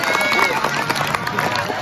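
Crowd applause at a village feast gathering in Desa Merah, a dense, steady wash of many hands clapping that fills the whole stretch at a fairly loud level, with voices mixed in.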